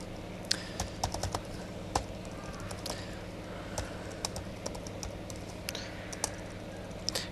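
Someone types a login on a computer keyboard, producing quiet, irregular clicking keystrokes in short bursts, close by in a calm room.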